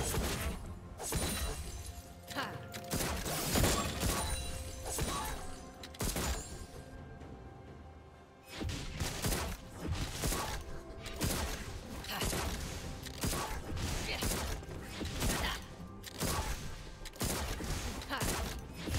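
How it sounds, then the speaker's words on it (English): Turret destruction in League of Legends amid a dense, loud barrage of crashing, shattering impacts and rapid bursts, nearly continuous with one brief lull, over in-game announcer speech. "Team's turret has been destroyed."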